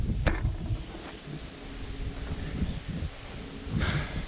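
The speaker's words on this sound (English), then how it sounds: "The wind, it's kind of blowing it that way." Wind gusts rustle and buffet outdoors during tree trimming on a country property, a steady low rushing broken by a few sharper gusts and microphone thumps, with no one talking.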